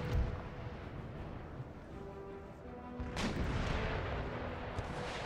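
Naval cannons fire round shot in Empire Total War: heavy booming broadsides over a continuous rumbling battle din, with one sharp, loud blast standing out midway.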